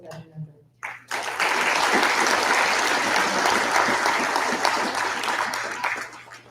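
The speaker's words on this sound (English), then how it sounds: "Thank you so much for your applause" Sustained applause from an audience at a school Veterans Day assembly, rising suddenly after a brief pause and holding steady and fairly loud for several seconds.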